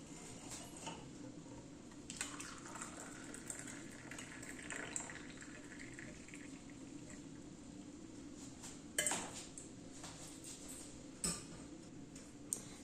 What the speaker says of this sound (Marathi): आता आपण हा चहा गाळून घेऊया